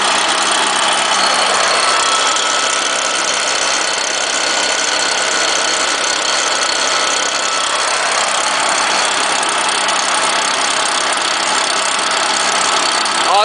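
A cold-started Stihl engine runs at high idle, a loud, steady buzzing roar that holds constant and close without pause.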